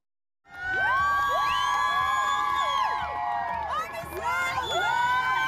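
A crowd celebrating the release of freed hostages erupts in loud, sustained cheering, with shrill whistles and high shouts and whoops layered over a dense roar that carries on throughout.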